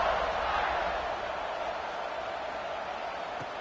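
Stadium crowd buzzing in a football video game, a dense steady roar of many voices after a score, fairly loud and unbroken, easing slightly over a few seconds.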